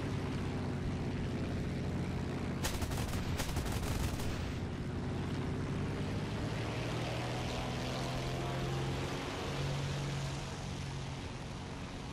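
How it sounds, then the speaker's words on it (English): Aircraft cannons strafing an open-topped M56 tank in War Thunder: a dense burst of gunfire in the middle of a steady, loud engine drone, with the drone continuing afterwards. "Not going to survive a strafing run from all those cannons on the front of this thing."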